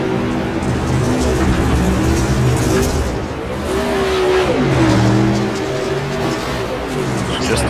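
Race cars roar around a dirt speedway after a feature finish, engines droning steadily with rising and falling revs as cars pass, a loud continuous blend under a faint commentator's voice.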